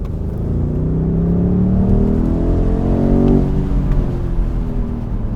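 A BMW M850i Cabriolet accelerates hard, its engine note rising in pitch through a gear, then dropping with the shift and pulling on, loud and close with a deep rumble underneath.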